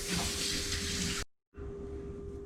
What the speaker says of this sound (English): I'm gonna wash my hands off real quick